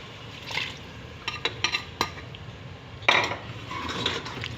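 A spoon scrapes and clinks against a pot while meat with tomatoes and yogurt is stirred, giving a few sharp metallic knocks over a soft wet, squelching background.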